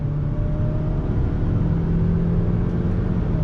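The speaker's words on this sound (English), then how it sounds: "I'm using the paddles on the back of the steering wheel to go through the power band" 2020 Kia Optima SX engine rumbling steadily from inside the cabin as the car accelerates through its gears on the paddle shifters, a continuous mid-level drone.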